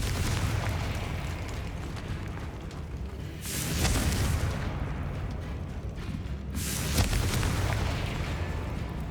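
Blasts from the Confringo fire spell ring out in Hogwarts Legacy, two heavy booming explosions a few seconds apart over a loud, rumbling game soundscape, with no talking.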